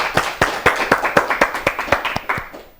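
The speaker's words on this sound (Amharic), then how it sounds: "አጨብጭቡላት" Rhythmic, fairly close clapping from a small group at a children's quiz show on Ethiopian television, about a dozen even claps in unison that fade out at the end.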